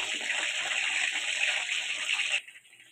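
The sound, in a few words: chicken pakoras deep frying in oil, second fry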